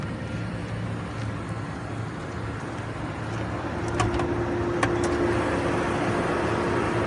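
The engine of a Lincoln limousine running steadily after being started, a continuous close rumble that grows slightly louder partway through, with a faint whine and a few clicks over it.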